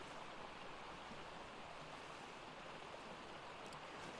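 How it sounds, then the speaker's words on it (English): A waterfall in the video game Ark Survival Ascended, a steady broadband roar of rushing water that stays constant and fairly loud throughout with no voices. "Look, waterfall."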